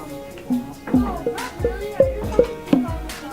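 A homemade bucket string instrument built with buttons, a stick and nails is plucked note by note, about eight twangy tones at shifting pitches, each with a dull thump and short ringing decay, close by.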